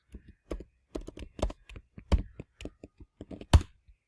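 Someone types a new password on a computer keyboard, giving a quiet, close run of separate key clicks in an uneven rhythm with short pauses between strokes.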